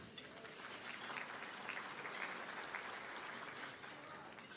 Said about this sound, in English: I think you all need to give each other a round of applause.